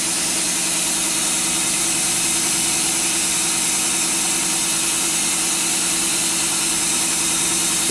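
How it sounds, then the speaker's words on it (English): A machine spindle spins up after the shop compressor kicks in, giving a steady, even mechanical hum with a faint whine. It runs continuously and fairly loud throughout, with no talking. "I'll run the spindle now."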